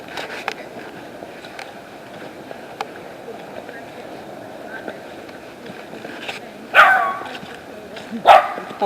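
A dog barks twice in a park, short sharp bursts near the end after a stretch of quiet outdoor background with faint talk.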